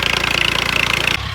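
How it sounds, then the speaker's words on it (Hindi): A tractor engine works a field during sowing, a steady rapid mechanical chugging close by that cuts off abruptly near the end, leaving a lower hum. "ट्रैक्टर वाले ने काम शुरू कर दिया"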